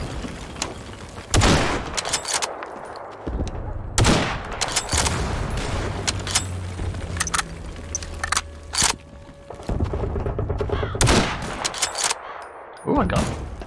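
Needle gun firing in a Garry's Mod World War II team deathmatch, with loud repeated gunshot bursts and cracks spread irregularly across the moment, some close and sharp, amid a steady background of battle noise.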